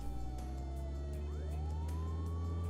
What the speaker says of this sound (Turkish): Sirenimiz de var.